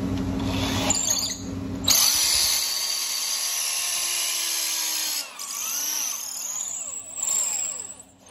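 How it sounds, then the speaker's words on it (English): A power drill bores into a long sable horn being made into a shofar, giving a loud close high whine that stops sharply, then a steadier grinding drone with shifting pitch. "Drilling a long horn, you make into a shofar, don't drill direct in"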